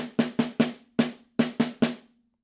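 Snare drum strokes from a solo percussion etude, with a gap where a sixteenth rest falls: seven sharp, close hits with a short pause after the fourth, each ringing briefly, alone without talk.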